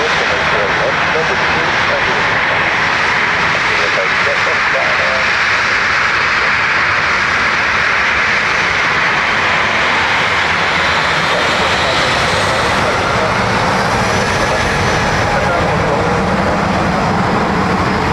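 A fixed-wing airliner comes in to land at Dublin Airport, its jet engines roaring loud and continuous throughout, with radio chatter faintly underneath.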